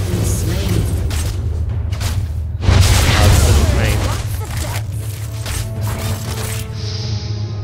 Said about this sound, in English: Send a rocket in there, maybe that can get her out of our face